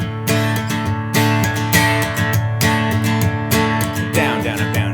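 An acoustic guitar strums a quick down-up pattern at a faster tempo, with crisp, evenly spaced strokes ringing full chords close to the microphone, no voice over it.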